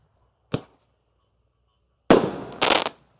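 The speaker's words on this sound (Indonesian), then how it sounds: "10 shot berhasil menyala semuanya" A 10-shot firework cake lit to welcome Ramadan fires in loud, sharp bursts: a single crack, a pause, then a dense double blast of explosive pops close by, with no talking.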